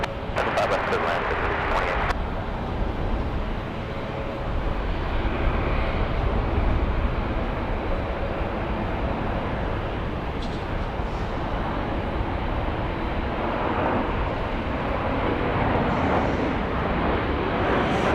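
A Boeing 737 MAX 8 airliner lands at Raleigh-Durham International Airport in rainy weather, its engines producing a broad, steady rumble and roar heard from a distance, with a radio voice briefly at the start.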